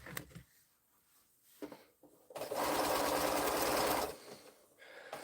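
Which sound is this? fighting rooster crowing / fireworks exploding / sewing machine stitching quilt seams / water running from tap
sewing machine stitching quilt seams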